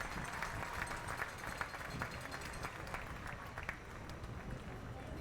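Fans on both sides at a Mercedes vs Edcouch Elsa high school football game applaud an injured player, heard as a distant, steady patter of clapping from the stands under a voice speaking.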